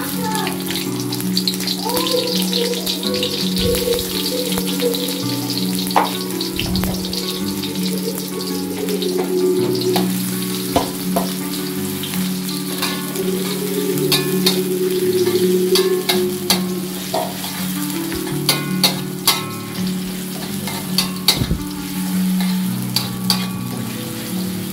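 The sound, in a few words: stir-frying onion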